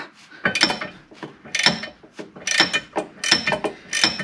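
A socket wrench ratchets on a Jeep control arm bolt, close, loud bursts of rapid clicking in uneven strokes, each about half a second long with brief pauses between.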